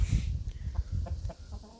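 Chickens cluck softly in short, scattered calls over a low background rumble, fairly close by.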